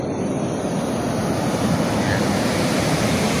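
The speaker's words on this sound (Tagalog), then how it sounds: "Ang lalakas po talaga ng waves." Big ocean waves crashing on a beach near a hut, a loud, continuous roaring wash of surf that fills the whole clip with no break.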